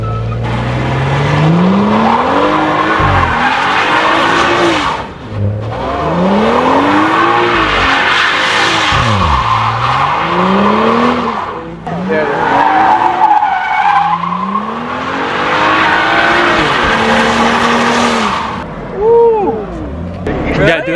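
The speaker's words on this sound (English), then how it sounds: "I'll do a quick little burnout real quick" A car with air suspension and traction control switched off spins its tires in a burnout, screeching loudly in long rising and falling sweeps over a roaring engine for about twenty seconds, with people talking throughout.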